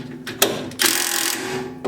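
A tie rod adjuster bolt on a car is loosened with a wrench, giving a few quick metallic clicks followed by a short ratcheting rasp, close and moderately loud.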